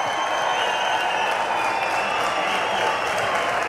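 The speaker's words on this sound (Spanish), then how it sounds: "Un fuerte aplauso para todas las mujeres." A large crowd at the Pingüinos motorcycle rally applauds continuously, a dense and even wash of clapping with light cheering, sustained at full strength until it cuts off.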